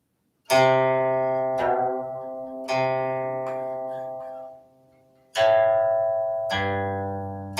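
Several plucked guqin open-string notes ring out alone, each with a sharp attack and a long, slowly fading resonance, with short silences between some of them.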